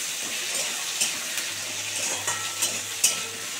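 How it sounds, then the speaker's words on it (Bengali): Potatoes and taro sizzle and fry in a hot pan, a steady crackling hiss with occasional stirring clinks, close and alone with no voices. "এবার এটার সঙ্গে একটু ভালো করে ভেজে নেবো বন্ধুরা"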